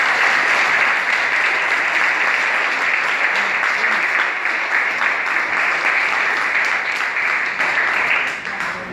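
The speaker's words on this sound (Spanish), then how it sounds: "para quien yo pido un fuerte aplauso" A civic audience at a mayor's public accountability report in Guaymate claps loudly and steadily for nearly nine seconds, a dense close applause that tapers slightly at the end.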